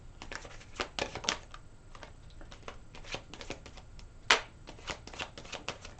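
Tarot cards are shuffled up close, a run of crisp, irregular riffling snaps and flicks with one sharp louder slap partway through.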